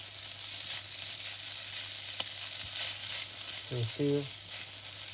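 Prawn fried rice being stir-fried in a pan gives a constant bright sizzle and crackle, with the odd scrape of stirring. A voice briefly speaks a couple of words over it near the end.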